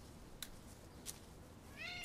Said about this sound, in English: tell the cat to shut up